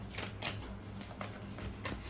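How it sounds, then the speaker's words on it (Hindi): Tarot cards being shuffled in a steady rhythm of soft papery riffles and flicks, close and fairly quiet, with no talking over it. "I have to shuffle again."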